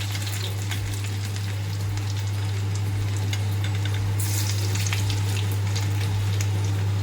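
Garlic frying in hot oil with mustard seeds and cumin, a steady close sizzle with scattered pops and crackles, alone with no voices.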